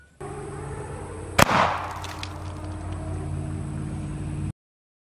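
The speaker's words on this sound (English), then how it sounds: "Now we're gonna put the cap on, shake it up real well, pump it up, and explode it." A plastic bottle half full of chalk, pumped up with air, bursts in one sharp, loud bang followed by a short hissing rush and a steady background hum.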